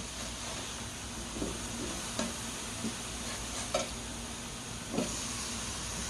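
Garlic and asparagus tossed on a Blackstone E Series electric griddle, a low steady hiss of frying under a few soft spatula taps and scrapes, fairly quiet, no voices.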